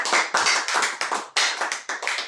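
A church congregation clapping together in a steady rhythm, sharp unison claps repeating roughly every third of a second, loud and close, with no talk over them.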